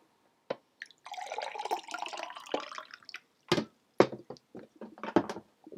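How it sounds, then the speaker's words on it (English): Water sound effects: scattered drips, splashes and a short running pour, with irregular bursts separated by near silence, fairly quiet and close. "Water sound effects."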